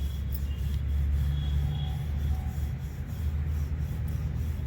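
A rolling pin rubbing back and forth over chapati dough, a continuous low scraping and rubbing sound with a steady rhythm, close by, with no talking.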